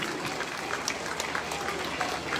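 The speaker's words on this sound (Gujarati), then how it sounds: "સૌ તાળીઓના ગડગડાટથી એમને આપણે વધાવીશું." Applause at a school centenary celebration as a guest is welcomed with a shawl, a brief, even wash of many hands clapping at moderate volume with a faint voice underneath.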